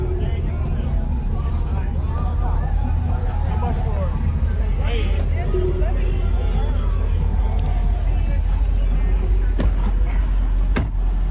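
12-inch SDR subwoofers in a ported box with a 6-inch port, pushed by about 936 watts, play a loud demo inside a vehicle. Heavy bass booms steadily and rattles throughout under a crowd murmur.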